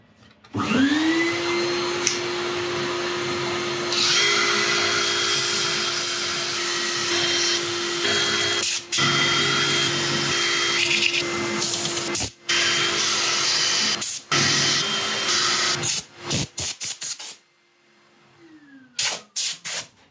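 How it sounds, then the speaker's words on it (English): A lathe hums steadily with a loud whirring extractor-like drone while sanding a yew crotch piece, broken by several brief cutouts and scraping bursts of sanding before the motor winds down. "I'm going to set up for sanding."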